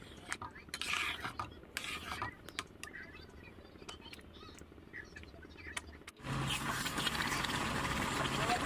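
A carrot sweet is stirred in a pot over medium heat, giving scattered scraping and clinking strokes of a utensil against metal, followed by a louder steady rustling scrape near the end, with speech partly over it.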